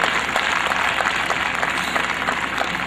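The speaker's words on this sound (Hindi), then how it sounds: "इस पर्सनैलिटी को आप लोग जोरदार ताली देकर के स्वागत करें" An audience at a 2007 educational institution's annual function gives a guest loud, steady applause, dense and continuous throughout with no talk over it.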